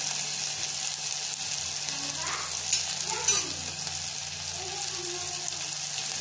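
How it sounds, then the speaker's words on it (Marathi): A hot tempering crackles over dal in a steady, moderately quiet sizzle, broken by a few brief sharper pops and faint stirring sounds. "आणि वरणाला अशी चरचरीत फोडणी।"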